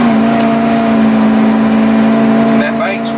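A 1996 Fleetwood Bounder 35U Class A gas motorhome climbing a steep hill, its engine droning steadily and loudly through a Banks power exhaust with a strong low hum, easing off near the end.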